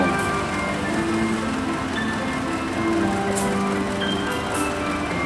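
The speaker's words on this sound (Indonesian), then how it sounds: "Ada juga kereta api yang baru datang dari jurusan Jakarta ke Bandung" Train pulling in on the Jakarta–Bandung line, a steady continuous rumble with faint tonal squeals from the rail cars, heard from a nearby platform or trackside with no talk.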